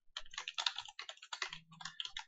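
Clattering keystrokes on a computer keyboard while coding a Unity Android input script, in quick uneven bursts with short pauses, close and fairly quiet.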